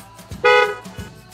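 A cartoon van gives a single short, bright horn toot, loud and close, between brief engine or motor noises.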